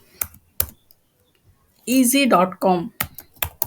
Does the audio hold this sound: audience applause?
no